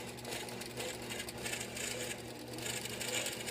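A long arm quilting machine stitches a raw edge appliqué layer with a steady, continuous mechanical whir and fine ticking, even and close throughout with no talk.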